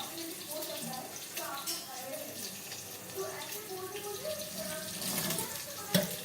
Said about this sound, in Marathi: आता आपण भाजीला स्वच्छ धुवून घेऊया